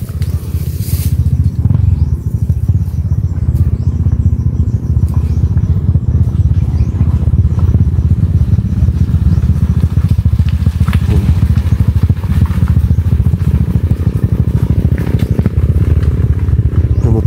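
A motorcycle engine rumbles steadily and loudly throughout, a low continuous drone with some clatter on top.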